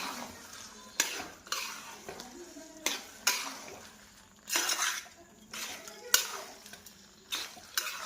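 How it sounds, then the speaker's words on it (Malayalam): A ladle stirs fried chicken 65 into a ready curry gravy, giving repeated metallic scrapes and clinks against the pot in uneven bursts, close but fairly soft. "റെഡി ആയിട്ടുള്ള ഗ്രേവിയിലേക്ക് നമുക്ക് ചിക്കൻ 65 ചേർത്ത് കൊടുക്കാം. നല്ലതുപോലെ ഇളക്കുക."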